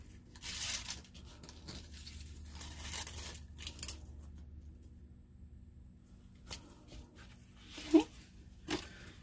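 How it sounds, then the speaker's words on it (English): Quiet snipping and tearing of microtip scissors cutting through adhesive, a few crisp cuts and crinkles spaced apart in a hushed room. "I'm going to use my microtip scissors because we all know how awesome they are."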